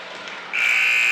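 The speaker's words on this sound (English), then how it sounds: "There's the final buzzer." A loud, sustained electronic buzzer sounds at the end of a high school volleyball match in a gym, cutting in abruptly after crowd murmur and holding steady.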